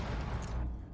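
A grenade explosion in a tactical shooter video game, one close, heavy, booming blast with a low thud that rolls off and fades within a second.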